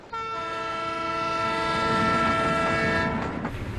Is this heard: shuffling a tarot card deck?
no